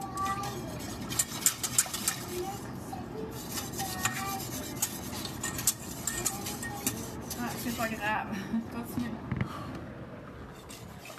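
A wire whisk scrapes and clicks against a pot while béchamel thickens for a spinach noodle dish. The quick, irregular strokes run steadily under a voice speaking throughout.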